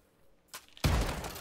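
Gunfire in Call of Duty Modern Warfare 2: a single sharp shot, then a loud burst of shots that rings on for half a second, close and dominant.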